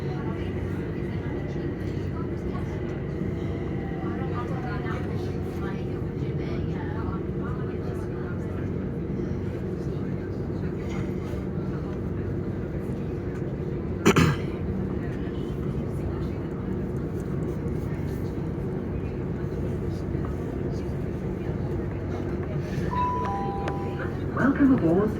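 Steady low rumble and hum inside a Southern passenger train running between Watford Junction and Clapham Junction, continuous throughout with a brief sharp click midway and faint tones near the end.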